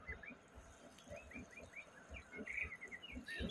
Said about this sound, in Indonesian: Di sini ada burung murai batu yang lagi gacor. Dengar suaranya enggak lur?